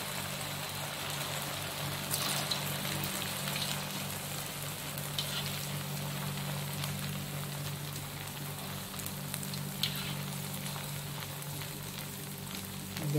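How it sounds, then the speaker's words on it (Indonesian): Sala lauak, West Sumatran fried snacks, deep frying fully submerged in plenty of hot oil, giving a steady soft sizzle and bubbling with a few brief crackles, moderately quiet and without speech. "Digoreng sampai terendam di minyak yang panas ya."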